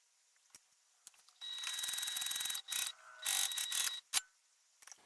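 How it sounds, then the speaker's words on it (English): Sewing machine stitching wristlet fabric pieces along a side seam, running in rapid bursts of whirring, rhythmic needle clatter, with short pauses and clicks between runs. "I'm going to sew down the side with the seam allowance given the pattern"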